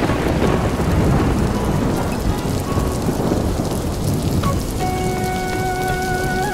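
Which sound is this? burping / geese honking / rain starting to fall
rain starting to fall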